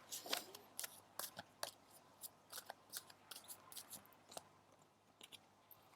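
Tarot cards are shuffled by hand in a quiet room, a run of faint, crisp snapping and slapping bursts at an uneven rhythm, close by and otherwise silent.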